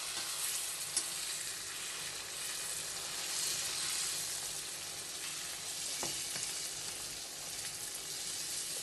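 Fish frying in a covered pan gives off a continuous, even hiss of sizzling oil, close and steady for the whole stretch, with one or two faint knocks and no voices.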